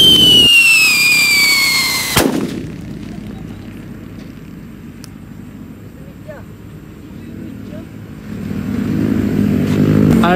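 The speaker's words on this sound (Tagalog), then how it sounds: "Conde big whistle pump. Test fire." A big whistle bomb firework set off in a test fire in the Philippines gives a loud, descending whistle that ends in a sharp bang, followed by a fading rumble and distant crackle, with voices around.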